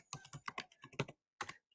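Quick bursts of keystrokes on a computer keyboard, close and fairly quiet, clattering in a short flurry, pausing briefly, then a final few taps, with no talking over them.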